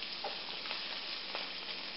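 Shrimp sizzling in a hot pan, a steady, fairly quiet crackling hiss with small spits and stirring noises, and no voices.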